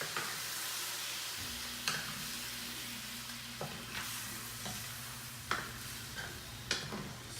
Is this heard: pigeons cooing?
no